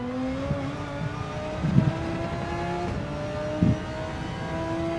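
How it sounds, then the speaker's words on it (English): An Audi race car engine in Gran Turismo 7 on the Fuji circuit, a steady high-pitched drone with rising and falling revs and brief rasps at the gear changes, heard alone. "It sounds good, this Audi"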